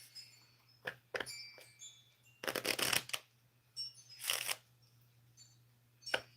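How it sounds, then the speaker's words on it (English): Tarot cards being shuffled by hand in close, crisp bursts of riffling and slapping, several separate rounds broken by short pauses, over a faint steady hum. "What I'll do is I'm shuffling them and then I start pulling them."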